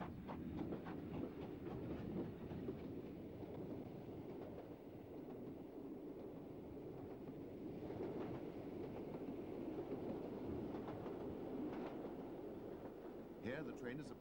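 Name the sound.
train with pair of Glen class locomotives climbing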